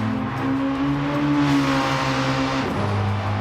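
A DTM race car in Gran Turismo 7 drives at speed with a steady, sustained engine drone and a pitch shift near the end, loud and close, without talk.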